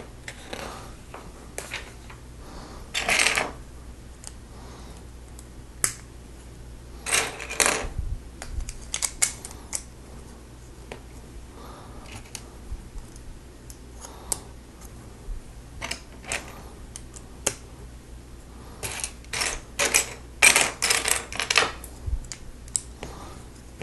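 Small plastic Lego pieces, including wheel axles for a police vehicle chassis, clicking and snapping together in scattered bursts of light clacks and rattles, close and fairly quiet with no talking.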